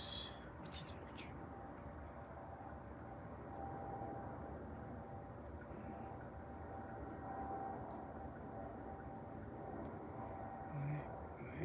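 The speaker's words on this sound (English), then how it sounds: "you can hear the plane" A low, steady roar from a passing airplane near Philadelphia International Airport, heard outdoors as a continuous moderate rumble.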